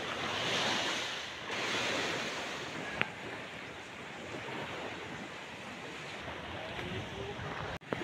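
Waves wash steadily against the shore with a constant surf roar and some wind noise, broken by a sharp click partway through.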